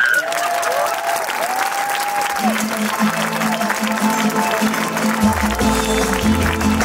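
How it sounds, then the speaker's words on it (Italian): Audience applause at an outdoor cabaret festival in Grottammare as a comedian is welcomed on stage, a sustained dense clapping crowd with music notes and a low tone rising underneath toward the end. "Applausi"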